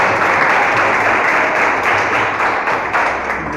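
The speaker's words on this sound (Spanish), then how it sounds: "Le damos un aplauso a Dios por su grande amor y su perdón." A church congregation claps together in praise to God during a worship service: loud, dense, sustained applause filling the room, steady throughout with slight swells and no talk over it.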